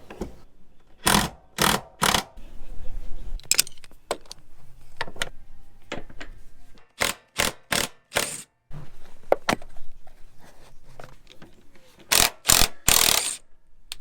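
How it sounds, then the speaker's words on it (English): A hand ratchet loosens body lift bolts on a Toyota, producing sharp, close clicking bursts in quick clusters with quieter scraping and handling noises between them. "Okay, all the bolts are loosened from one side, the passenger side."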